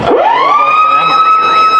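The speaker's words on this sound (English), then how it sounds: "You may well hear that in the background, and that's the full-time siren." A loud full-time siren sounds at a 2017 Group 7 rugby league match between Kiama Knights and Port Kembla, rising quickly then holding one steady, piercing tone over faint crowd noise.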